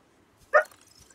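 A pet dog gives a single sharp bark, close and fairly loud, in an otherwise quiet indoor room.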